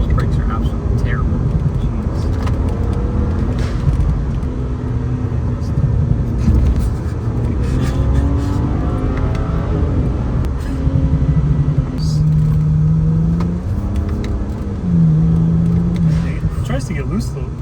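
A car engine revs and roars continuously, pitch rising and falling as it accelerates through gears, loud and close from inside the vehicle.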